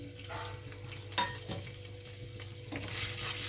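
Bay leaf and cumin seeds sizzle in hot ghee and oil while a spoon stirs them, giving a continuous frying hiss broken by a few clinking scrapes against the pan.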